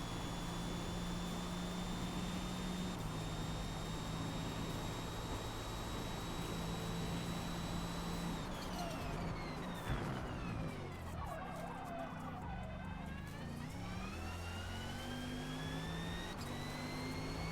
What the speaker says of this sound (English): Get on the power nice and early, full throttle.